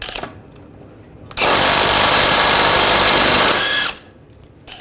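An impact or power tool spins an 18mm socket to remove a tie rod nut on a 2009-2017 Volkswagen Tiguan, one loud sustained burst of about two and a half seconds, close up, with quieter shop noise before and after.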